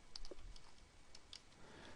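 A few soft keystrokes on a computer keyboard as a name is entered into a data row, faint and sparse against low background hiss.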